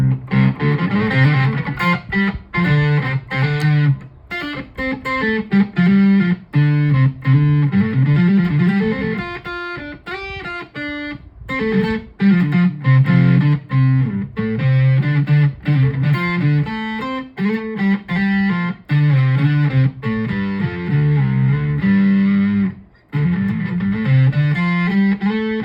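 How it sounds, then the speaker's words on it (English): Electric guitar run through an octave-down pedal and overdrive on a small pedalboard, playing a continuous busy melodic riff with a thick, slightly gritty tone, loud and unaccompanied, with no talk throughout. "If you have like an octave down, then I add a bit of overdrive."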